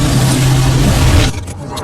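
A $30 million car's engine roars loud and close, revving hard at full speed for over a second, then cuts off abruptly, leaving a quieter rough rumble.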